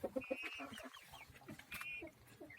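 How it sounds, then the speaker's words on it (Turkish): An angry rooster and hens in a chicken coop cluck and squawk nearby in quick, uneven bursts, with a couple of higher calls rising over the flock. "Horoz kızıyor."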